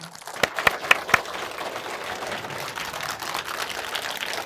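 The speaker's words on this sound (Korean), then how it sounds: "귀한 말씀 전해주신 스님께 다시 한번 여러분 감사의 큰 박수 보내주십시오" An audience applauds after a monk's talk: a few sharp individual claps open it, then a steady soft patter of hands clapping continues at moderate distance.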